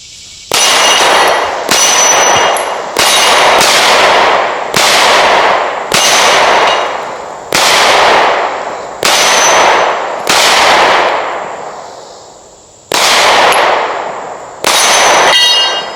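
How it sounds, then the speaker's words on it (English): FN Reflex pistol fired at a steel Crate Tactical Texas Star target, around a dozen loud shots each paired with a ringing metallic clang, spaced unevenly about a second apart outdoors with no talk. "So let's shoot at this Crate Tactical Texas Star."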